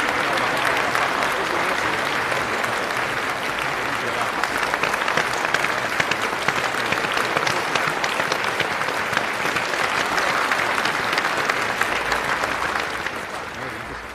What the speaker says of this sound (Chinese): 让我们以热烈的掌声恭喜王总洗牌我们的真品。